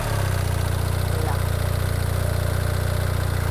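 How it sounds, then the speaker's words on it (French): A BMW R1300R boxer engine idles with a steady, even low thrum, close and constant throughout, a faint voice briefly present beneath it. "Et là vous pouvez écouter la sonorité de ce bloc qui est un peu particulier, qui n'est autre que le boxer de chez BMW"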